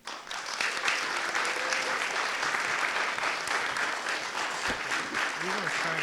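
An audience at an academic lecture series claps to welcome a speaker, steady, dense applause from a crowd that holds evenly for several seconds, with a faint voice underneath.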